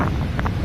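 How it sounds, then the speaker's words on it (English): Wind gusting hard across an open beach, buffeting the microphone with a steady low roar and rumble for the whole moment, with no voices. "And it's so windy, sorry."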